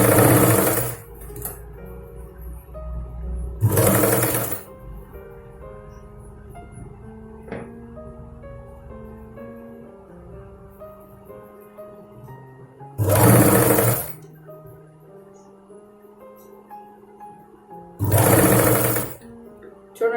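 A sewing machine stitching a Punjabi dress, loud and close, running in four short bursts of rapid whirring with quieter pauses between them.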